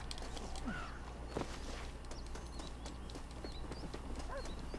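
Horse hooves clip-clop in Red Dead Redemption, a soft rhythmic walking gait heard faintly over ambient game sounds with occasional bird calls.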